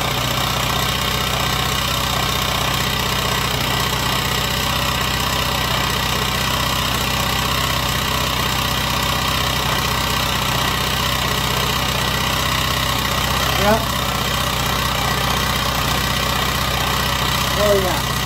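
Honda XR80 motorcycle engine idling steadily after a compression repair, a continuous low putter running close and even throughout, with brief voices near the end.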